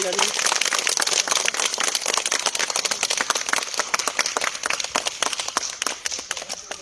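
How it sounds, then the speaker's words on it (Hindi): A group at a car achievement celebration claps loudly and steadily, with dense crisp hand claps, some heavy and close, running throughout while voices talk beneath. "जोरदार तालियां हो जाए।"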